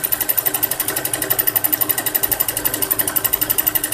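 Sewing machine stitching a quilted patchwork cover, a steady fast rhythmic whir with evenly spaced needle beats running continuously at close range, with no talking.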